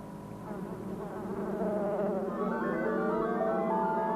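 Killer bees give a buzzing, wavering drone that swells louder after the first second and holds close and steady, with shifting pitch as the bees move.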